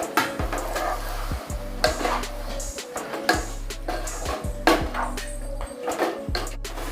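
Marinated mutton stirred in a pan, with a spoon scraping and clattering in quick, uneven strokes that continue throughout, set against a steady musical backing and no talking.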